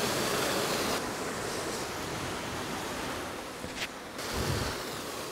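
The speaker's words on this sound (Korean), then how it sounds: "시원한 물소리가 등산객을 반깁니다." Steady rushing water fills the whole clip, a constant roar of a flowing mountain stream on a steep, rocky hiking trail in Portugal, heard close, with no voices.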